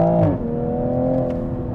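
A 2020 Toyota Supra engine revs on a downshift, a steady droning engine note dropping and settling into a sustained tone, loud and close from inside the car.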